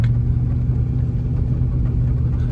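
A vehicle rolls through a rough, flooded potato field, its engine a steady, close, low rumble that drones on without pause and with no voices over it.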